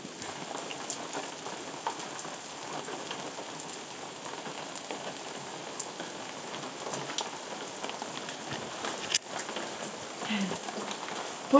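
Steady rain falls in a national park among lakes and forests, a dense, continuous patter on surfaces close by with no voices.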